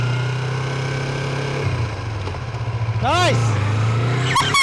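A brand new Yamaha MT-25 motorcycle idles and moves off with a steady low engine drone that dips then rises as revs climb, close by, with voices talking over it.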